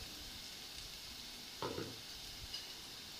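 Onions fry in ghee in a pan, making a faint, steady hissing sizzle with a brief louder stirring scrape partway through, heard alone at low volume.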